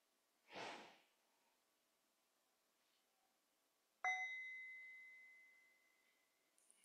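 A meditation bell in the Plum Village tradition, struck once after a soft breathy sound, ringing out alone in a quiet room with a clear, long-decaying tone.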